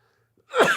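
A single sharp human sneeze bursts out after a brief silence, close and loud, ending abruptly.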